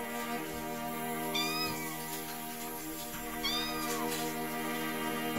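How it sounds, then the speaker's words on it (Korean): A cat meows twice, a couple of seconds apart, over a quiet steady background hum. "고양이들은 그런 것도 없다는 듯이 장난감을 가지고 놀아달라는 크리미의 모습입니다."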